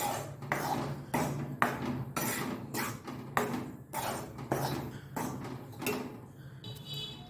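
Dry rice flour is roasted in a pan for kozhukkattai, with a spatula scraping the pan in a steady rhythm of about a dozen close, even strokes.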